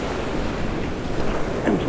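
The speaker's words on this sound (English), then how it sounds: "And some big waves there." Big ocean waves surge and wash steadily around a boat anchored on extremely rough water, a continuous broadband roar mixed with wind buffeting the microphone, no voices present.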